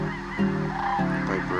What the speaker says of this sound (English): The birds take off because some coyote jumped into the mist.